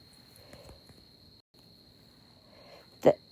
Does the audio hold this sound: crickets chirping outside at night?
yes